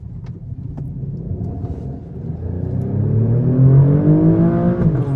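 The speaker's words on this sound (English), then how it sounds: "Oh, the Italians know how to do a good exhaust note for sure." A 2019 Alfa Romeo Stelvio Quadrifoglio SUV engine revs up hard and steadily in the rain, its exhaust note climbing in pitch and growing louder over several seconds, close by with no talking.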